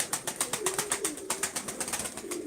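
Pigeons at an evening bird auction give low, faint coos beneath a steady, fast run of sharp rhythmic pulses that continues throughout, with no voices.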